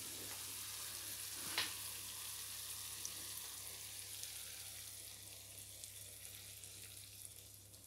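Beaten egg sizzles in a frying pan as a soft, steady crackling hiss that holds evenly throughout, quiet and close, with one brief clink near the start and no talking.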